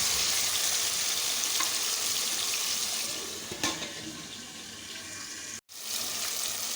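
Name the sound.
tomatoes frying in a pot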